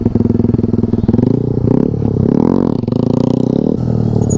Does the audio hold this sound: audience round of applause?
no